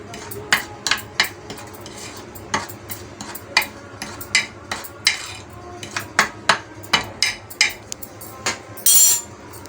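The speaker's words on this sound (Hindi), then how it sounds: "आप लोग चाहें तो हाथ से मिला लें या आप लोग चमचे से भी मिलाना चाहें तो ये अच्छे तरीके से मिक्स हो जाएगा।" A spoon stirs tempura batter in a bowl, making a steady series of sharp clinks and taps against the bowl, close and fairly loud, ending in a brief louder scrape.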